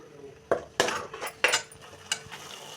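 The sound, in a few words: stirring ground masala paste in a cooking pan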